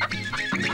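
A chicken clucking in a village scene, a short burst of close, fairly loud clucks lasting under a second.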